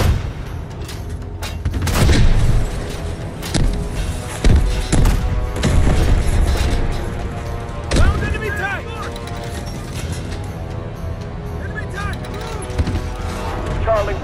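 Heavy booms and gunfire rattle through a battlefield in Delta Force Hawk Ops, several loud thudding blasts early on with scattered shots after, while players talk over the action.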